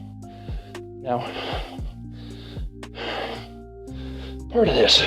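Heavy, labored breathing after exercise, with repeated rhythmic gasping breaths close to the mic and a sharper snort-like breath near the end; no speech.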